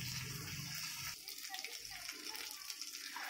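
Water pours into a cooking pot of chicken curry, a steady gushing rush that stops after about a second, followed by quieter bubbling and someone talking over it.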